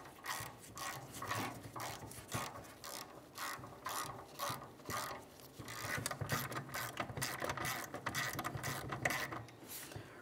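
A ratchet tightens a stud into the exhaust manifold of a 2012-2018 Nissan Altima, giving steady, close rapid clicking in repeated strokes that continue throughout.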